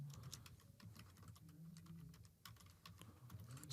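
Quiet computer keyboard typing while a workflow name is entered, a steady stream of soft, close key clicks with small pauses and no voice.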